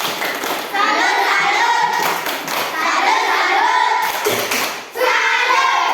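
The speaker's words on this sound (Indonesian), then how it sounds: "tepuk salut dulu untuk kelompok 2" A classroom of students performs a rhythmic chant-and-clap salute for a discussion group, bursts of patterned clapping and thumps with children's voices chanting along, in several phrases separated by brief pauses.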